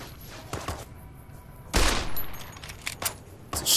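Gunfire rings out in the Fallout New Vegas video game, with a few scattered shots early on, then a loud burst followed by a string of quick cracks and distant pops.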